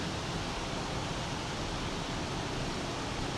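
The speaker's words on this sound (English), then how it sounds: "This is a highway with intermittent traffic." Steady broadband roar of highway traffic, a continuous wash of tire and engine noise at constant loudness with no distinct passes or pauses.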